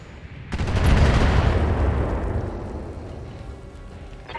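Loud burst of mech weapons fire slamming into a turret in the BattleTech game, a dense explosive blast that swells quickly, holds heavy low rumble, then slowly fades over several seconds with no talking.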